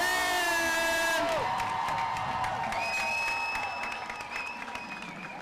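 Parade crowd lining College Street at the Ohio University homecoming applauds and cheers steadily for the marching band, with whoops and shouts over dense clapping, while a whistle-like tone sounds early and sustained high tones ring later.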